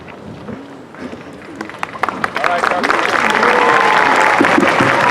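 A commencement ceremony crowd at a university department graduation breaks into applause, starting with scattered claps under a few voices and swelling into a loud, dense, sustained ovation that fills the hall.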